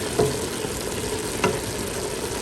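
Ground beef with celery, carrots and minced garlic cooks in a pot for cheeseburger soup, giving a steady sizzle broken by two distinct clinks of a spoon against the pot.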